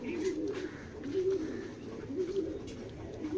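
Racing pigeons coo near the microphone in a series of soft, throaty rolling calls repeating every second or so, with no talk.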